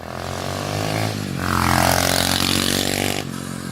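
A 125cc semi-automatic mini bike passing at high speed, its small engine buzzing loudly and rising in pitch as it closes in, then dropping away as it goes past.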